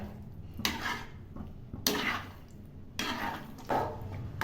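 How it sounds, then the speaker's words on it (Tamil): A spoon stirring a thick cooking mixture in a pan, heard as repeated scraping strokes about once a second, close and moderately loud, with no voices. "விடாமல் கிண்டிக்கிட்டே இருக்கணும்"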